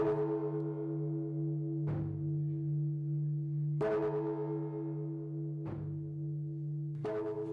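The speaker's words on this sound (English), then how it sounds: "The sunset is falling, and the sounds of the bell tower vibrate in the holy atmosphere." Church bell tower ringing at sunset, slow tolls about every two seconds, each strike followed by a long sustained hum that rings on between hits, clear and alone.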